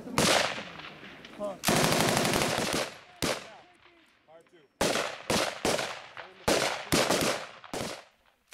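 Marine machine gun laying down suppressing fire in Afghanistan: long loud sustained bursts, then a string of short rapid bursts with brief gaps between, with a shouted voice early on.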